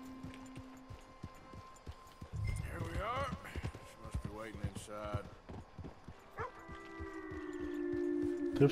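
Horse hoofbeats in the video game Red Dead Redemption II, a run of clip-clopping steps heard alongside game sounds while someone talks over them.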